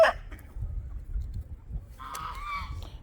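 Backyard chickens and roosters give a brief clucking call at first, then a longer, louder honking squawk near the end, over a low rumbling background with no voices.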